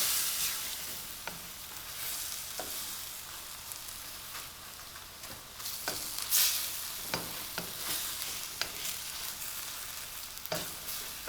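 Chinese eggplant in sweet soy sauce sizzling hard in a hot pan as the liquid cooks off, a dense crackling hiss close up, broken by sharp pops and occasional stirring scrapes.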